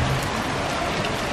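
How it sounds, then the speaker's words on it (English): Heavy rain pours down steadily in Santa Barbara, a dense, continuous hiss and patter close by with no pauses or voices. "I don't think you understood how much it was raining."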